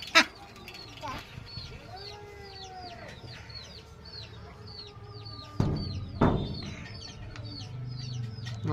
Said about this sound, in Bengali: এই দেখো হাঁস নিয়ে খেলা করছে